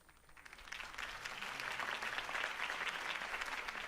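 Crowd applause at a Harvey Dent campaign rally in Batman: The Telltale Series, a broad steady roar of clapping that swells slightly and holds for several seconds.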